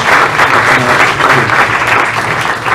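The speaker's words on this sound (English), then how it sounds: "Let's give him a round of applause" A party crowd gives loud, steady applause for Randy Goodman, head of Arista Records, with a low murmur of voices beneath the clapping.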